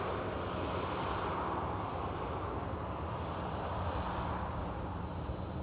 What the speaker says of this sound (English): Looks heavy on the climb, the Dreamliner.